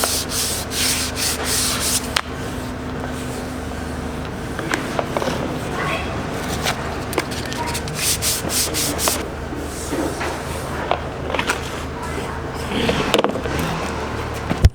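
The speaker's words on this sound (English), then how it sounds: "after a few hours of sanding, I got most of the old paint completely off" Hand sanding of old paint off the front lip of a wide-body Honda Civic, a close rough scratching rub in uneven strokes with scattered knocks, with some talk in the background.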